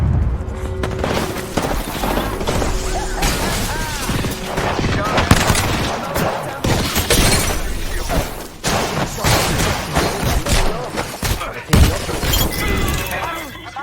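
A grenade throw and gunfire in the Apex Legends shooter game, with shattering blasts, thuds and bursts of fire crowding the mix while voices talk over the action.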